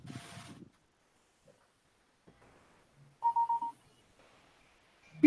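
A phone gives a short run of electronic beeps while sending images to a computer, a brief steady tone amid quiet room sound with faint scattered noises.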